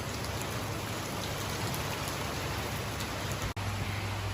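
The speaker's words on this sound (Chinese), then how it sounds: "这雨也够大嘞" Heavy rain pours steadily and loudly over a cornfield during a harvest, a dense continuous hiss with a brief dip near the end and no talk.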